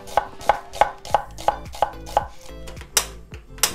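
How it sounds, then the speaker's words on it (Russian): A knife slices an onion into half rings on a cutting board, landing about ten crisp, evenly spaced chops that come close and clear, with a slight pause near the end and no talking. "И вот такими вот полукольцами нарезать лук."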